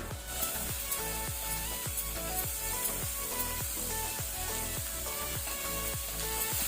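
Chopped tomatoes sizzle in a pan with fried ginger-garlic paste for a spring onion prawn masala, a steady bright hiss running through the whole stretch beneath louder rhythmic background music.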